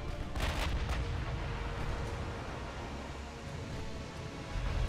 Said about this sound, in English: they're firing armor-piercing again